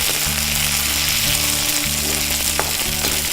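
Mint leaves sautéing in hot oil in a pan for Tamil-style pudina chutney give a steady, close sizzle and crackle, with faint stirring, no voices.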